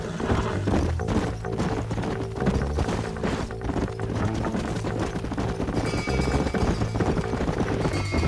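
Horse hooves clip-clopping steadily in the Red Dead Redemption video game, a continuous rhythmic trot running under a dense game score with no voices.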